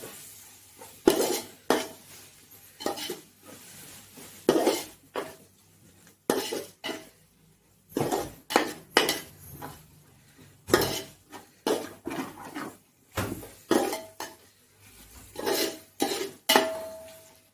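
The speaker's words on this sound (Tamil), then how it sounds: "சேர்த்து மிக்ஸ் பண்ணி இந்த மசாலாவை மட்டும் ஒரு 2 நிமிஷம் நல்லா வேக விடணும்" An onion and tomato masala with mint and coriander cooks in a pot for chicken biryani. A spoon scrapes and clanks against the metal in uneven bursts over a faint sizzle, with no voices.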